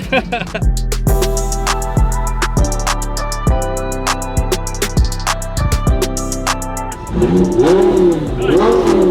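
A car drives in and accelerates: a loud, close engine revving in repeated sharp pulses, then a rising and falling whine near the end, with a voice heard at times.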